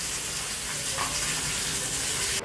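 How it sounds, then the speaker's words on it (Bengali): Onions fry in the oil left over from frying fish, making a close, steady, loud sizzle that holds evenly throughout the brief moment. "এই যে পেঁয়াজটা একটু ভাজা হয়ে গেল"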